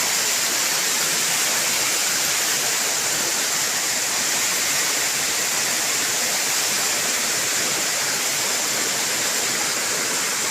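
A river rushes at night in the countryside, a loud, constant broadband roar of flowing water, unbroken and without voices.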